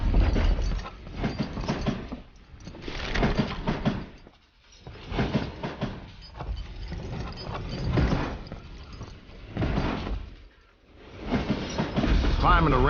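A train in the video game Call of Juarez: Gunslinger rolls along with a rhythmic rumble and clatter that swells and fades in repeated waves, loud and continuous with brief lulls.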